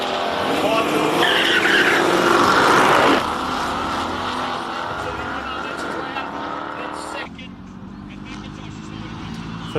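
A Ford Mustang race car launches up a hill climb course with tires screeching and the engine roaring loud and near, then fading as a commentator talks over it.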